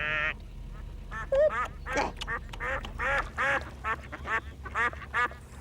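A duck quacks repeatedly in a rapid series of loud, close, harsh calls, one after another.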